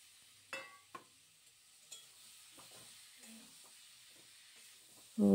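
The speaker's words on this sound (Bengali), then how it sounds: "দিয়ে ভালো করে মশলাটার সাথে আলুটা কষিয়ে নিচ্ছে এখন" Fried potatoes with spices and a pinch of asafoetida being stirred in a pan give off a low, steady sizzle, broken by scattered spoon scrapes and clinks, before a sudden loud thump at the very end.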